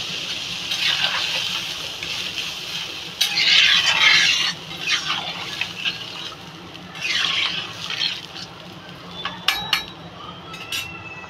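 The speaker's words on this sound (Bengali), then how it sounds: "আমি এবার পরিমাণ মতো জল দিয়ে দেবো।" Water is poured into a pot of taro and tilapia curry in a home kitchen. It makes faint, intermittent splashing and trickling bursts with light clinks of the pot, and no voices.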